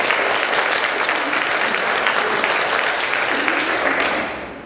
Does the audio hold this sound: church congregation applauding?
yes